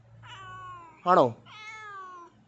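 A cat gives two drawn-out, wavering meows, fairly close and clear, with a short spoken word from a person between them.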